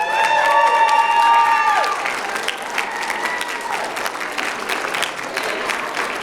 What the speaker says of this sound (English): One more big applause for our 2019 Ignite folks.